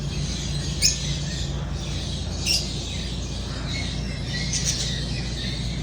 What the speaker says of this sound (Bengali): এটা আমার কলোনি এগুলা বাজিগর আছে কিছু আর লাভবার আছে